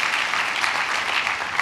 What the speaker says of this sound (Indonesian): ayo kita beri tepuk tangan yang meriah bagi Tuhan Yesus